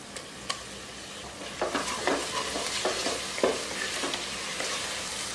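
Ginger garlic paste sizzles with onions and tomato in a pan, a steady moderate frying hiss broken by several scraping stirs in the middle and a few sharp spoon clinks, with no voices.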